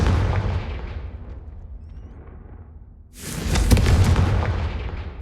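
Confringo fire-blast spell cast in Hogwarts Legacy: after a fading rumble and near-silence, a sudden loud, close burst erupts with a booming impact and crackling tail that holds for about two seconds.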